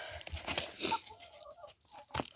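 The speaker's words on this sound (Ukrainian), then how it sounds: "Сьогодні показую обід не мій, а моїх курей, які ось тут поховалися від дощу" Chickens sheltering from rain cluck softly nearby amid faint pecking and crunching as they eat potato peels, a rotten pear and baked apple scraps, short low calls scattered over a quiet background.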